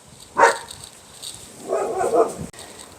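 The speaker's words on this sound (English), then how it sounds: "The dogs were barking too much" Neighborhood dogs bark near a front yard succulent garden: one sharp, loud bark, then a rougher, muffled cluster of barks a moment later.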